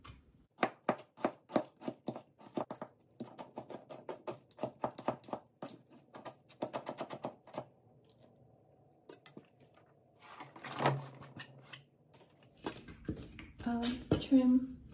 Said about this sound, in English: That way I only have to cut 1 onion.